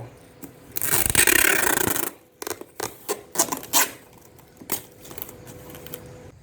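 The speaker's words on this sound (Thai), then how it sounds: "ติดเทปกาว" Adhesive tape is pulled and pressed down while sealing a container of green mangoes for ripening, a long rasping tear followed by short scratchy rubs and pats, close and fairly loud with no talk.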